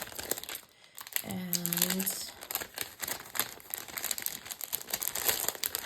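A pack of 6x6 double-sided floral pattern paper is opened up close, with crisp crinkling and rustling of the wrapping that runs on after a brief word from a voice.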